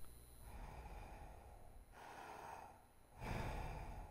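A monster breathes just outside a door in the horror video game Terrobyte. Three soft, close, airy breaths or snorts come with short pauses between them, quiet and alone.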